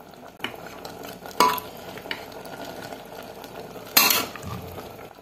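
A spoon stirs beef masala gravy in a pot with soft scraping, broken by two sharper metallic clinks against the vessel and no talking.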